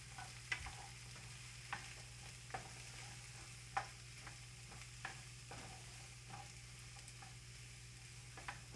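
Peppers, onion and garlic sizzle quietly in a pan while a wooden spoon scrapes and taps through them, the soft steady frying broken by a dozen or so light knocks of the spoon, faint and close with no voices.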